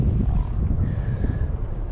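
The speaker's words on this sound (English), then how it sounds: "It's so windy" Strong wind buffets the microphone with a constant low roar and gusty rumble while fishing on a frozen lake, and no one speaks.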